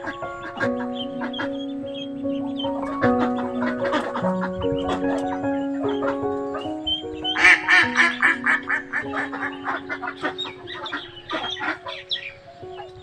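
Ducks quack repeatedly alongside clucking fowl at a village home, a busy overlapping chorus of calls that grows more frantic toward the middle, close and fairly loud.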